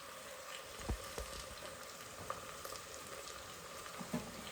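Cluster beans tempered with garlic in hot oil give off a continuous, close crackling sizzle, dotted with occasional sharper pops and clicks from the pan.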